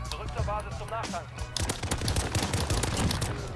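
Rapid gunfire from a Harrier killstreak strafing enemies in Call of Duty: Modern Warfare, dense bursts of shots filling the second half under someone talking in German.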